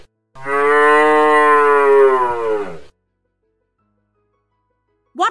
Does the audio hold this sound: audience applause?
no